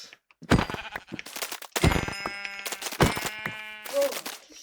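Sheep bleat several times nearby, wavering nasal cries following one another with short gaps, loud and clear outdoors.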